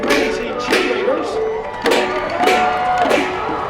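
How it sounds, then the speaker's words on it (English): A parade crowd at the George Washington Birthday Parade in Alexandria claps and cheers in steady waves, with shouts and whoops rising over the applause and a voice speaking through it. "Give them a round of applause, ladies and gentlemen."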